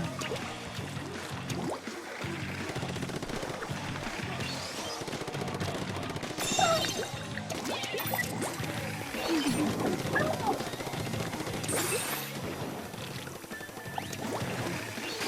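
Ink weapons firing in Splatoon, a continuous busy mix of rapid shooting bursts, splashes and game effects over background music, with a voice talking at times.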